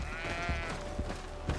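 A goat or ram bleats in a fantasy role-playing game, a near, wavering animal cry that runs through the first half and is followed by softer repeated bleats over a steady background.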